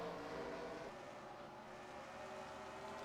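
Engines of NASCAR-style stock cars at the start of a video game cup race at a Superdome track, a steady dense roar of many motors droning together at moderate volume, with no talk over it.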